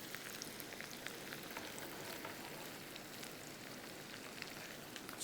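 Spinach sizzles softly in butter with garlic and cumin, a faint, continuous crackle and hiss of frying with scattered tiny pops throughout.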